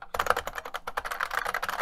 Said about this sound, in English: I've got my IBM Model M keyboard back